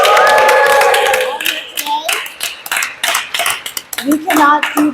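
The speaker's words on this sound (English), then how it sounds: "Let's give a round of applause for the coalition." A crowd at a coalition advocacy day press event claps in a dense, lively burst, with voices talking and cheering through it as the applause thins and surges.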